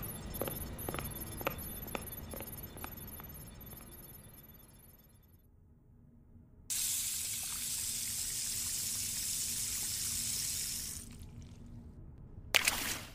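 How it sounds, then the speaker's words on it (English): Water runs from a tap in a steady hissing rush for several seconds and then cuts off, with soft drips and splashes at a bathroom sink. "Valeria splashed cold water on her face before looking into the mirror."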